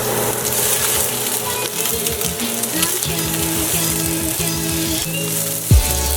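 Sliced ingredients sizzle steadily in hot cooking oil while cooking ginataang alimango, a constant crackling fry with background music underneath and no talking.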